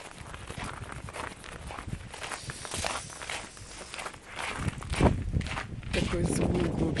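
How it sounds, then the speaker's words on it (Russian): Crunching footsteps through snow, close and uneven, mixed with rustling and breathy noise, building louder toward the end while someone talks over it. "Этот звук, когда идешь по снегу, когда берешь снег"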